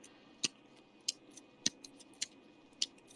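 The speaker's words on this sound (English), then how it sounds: "it sounds like a clicking sound or something. Oh, sorry, those are my chopsticks." Chopsticks click together in sharp, light taps, about six spaced irregularly over a few seconds, faint against a quiet background hum.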